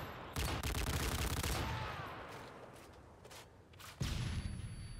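Rapid gunfire from the video game Modern Warfare 3: a dense, loud burst of shots for about a second and a half, then scattered fainter shots, and another loud burst near the end.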